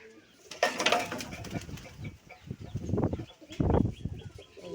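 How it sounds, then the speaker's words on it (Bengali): Pigeons kept in a home loft alongside racing birds and quail, heard in soft, irregular bursts of low cooing and rustling close by, with a few louder swells and no talking. "কবুতরগুলা"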